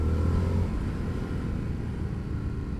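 Indian FTR S 2021 motorcycle with a 17-inch front wheel, its engine rumbling steadily and loudly while being ridden, a continuous low drone with wind noise and no talk.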